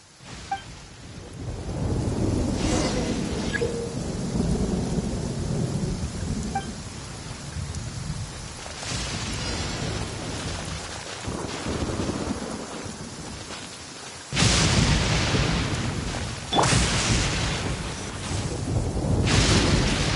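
Thunder and rain in the Genshin Impact video game, with steady rain underneath and several loud thunder cracks and rolling rumbles spread through the scene, all with no talking.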